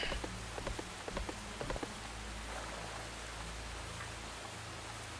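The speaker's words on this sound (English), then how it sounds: "And does this rain never fucking end?" Rain falls steadily in a hissing, even wash, with a few louder knocks and taps near the start and then constant patter under it.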